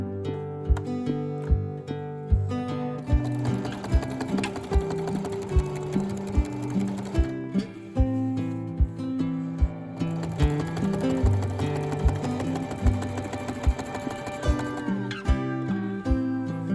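A sewing machine runs in bursts of rapid mechanical stitching while quilting, with short pauses and clicks between runs, close and clear with no speech.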